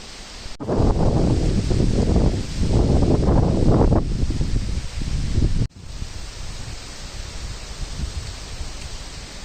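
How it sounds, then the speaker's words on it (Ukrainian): Strong stormy autumn gusts roar through rustling foliage in a Carpathian forest, buffeting the microphone in heavy bursts before settling into a steadier rushing wind. "Вітер прям такий штормовий"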